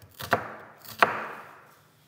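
A knife slices a small red onion on a cutting board, giving two distinct close chopping knocks about three quarters of a second apart, each fading quietly, with no talking.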